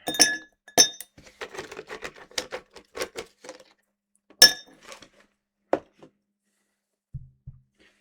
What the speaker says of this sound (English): Drop in our allotted 4 ice cubes.